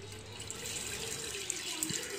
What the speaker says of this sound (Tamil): ஃபஸ்ட்டு வந்து ஒரு பேனில் வந்து ஒரு 500 ml அளவுக்கு தண்ணி எடுத்துக்கோங்க